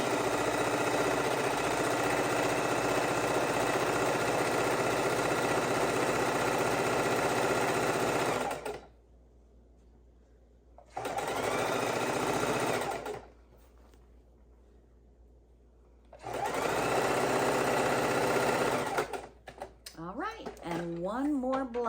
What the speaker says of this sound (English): And then we're going to sew right down our piece, that 1/4 inch seam.